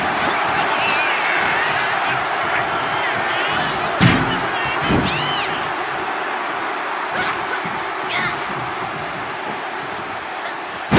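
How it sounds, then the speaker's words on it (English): A wrestler's body slams onto the mat during a scoop slam in WWE 2K25, two sharp thuds about a second apart over a steady roar of the arena crowd, with faint whistles and cheers rising through the noise. "Nice scoop slam."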